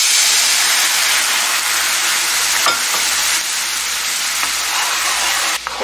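Tteokkochi sauce hits a very hot pan and erupts into a loud, steady, close hiss of sizzling and steam that holds almost unbroken, with only a faint stir or two, and no talking.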